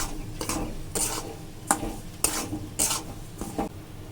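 One packet of semolina frying in oil in a pan, stirred with a spatula in a regular rhythm of scraping strokes over a soft sizzle, close and clear.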